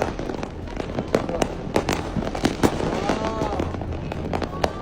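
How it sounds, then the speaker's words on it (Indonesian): New Year fireworks bursting all around from about twenty metres up on a fourth floor, a dense run of sharp cracks and booms near and far, with a brief exclaiming voice. "Ya, kanan kiri kembang api ya, keren ya"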